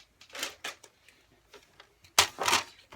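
A paper trimmer cuts straight down through card stock in a few short, sharp rasping strokes, quiet clicks between them, the last cut louder and closer.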